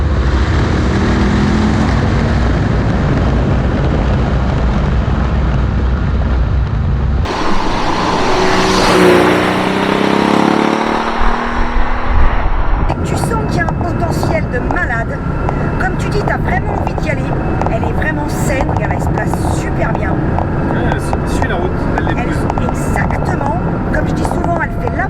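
A Porsche 930 911 Turbo, the first turbocharged Porsche, drives with a loud, steady engine drone that shifts to a rushing passage midway before settling again, with speech heard over parts of it.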